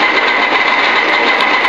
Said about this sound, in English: This LEBLOND 4025 heavy duty lathe is available to be seen under power